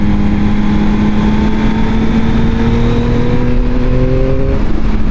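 A 2021 Yamaha MT-09 motorcycle engine pulls hard through a bend, its loud steady drone climbing in pitch as the bike accelerates, then easing off near the end.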